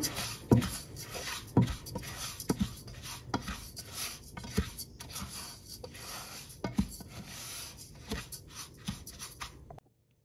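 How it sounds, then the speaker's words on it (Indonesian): A spoon scrapes and knocks around a pot in irregular strokes, soft rasping with occasional sharper clinks, close up and without talk. "Aduk hingga tercampur merata."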